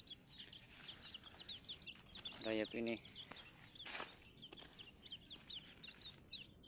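Young free-range village chicks peep and cluck repeatedly among grass and leaves, soft high chirps scattered throughout, with a short burst of louder clucking midway and someone speaking briefly.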